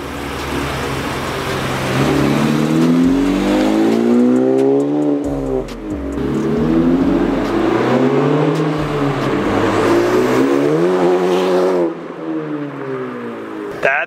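A Honda Civic Type R (FK8) with an AWE Tuning exhaust revs hard nearby, the engine note climbing and falling in repeated loud sweeps before dropping to idle near the end.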